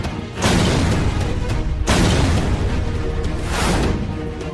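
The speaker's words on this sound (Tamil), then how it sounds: "வெடிக்கிற சத்தம் கேக்கும்" Two or three heavy booming gas cylinder explosions, each a sudden loud burst followed by a rough, roaring decay, with no voices.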